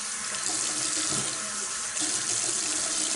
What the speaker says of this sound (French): Donc je vais rincer mon visage.